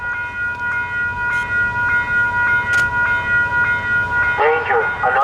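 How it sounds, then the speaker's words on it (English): Train passing through a station on a railfanning outing: steady rolling rumble with a repeating tonal warning chime at regular intervals and an automated voice announcement, ending in a brief squealing screech. "Danger, another train coming."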